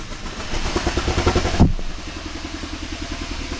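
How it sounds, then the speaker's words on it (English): Kia Ceed GT engine misfiring at idle, running with a rough, uneven pulsing beat and a louder stumble midway before settling into a weaker, lumpy idle. "The car's literally choking itself out."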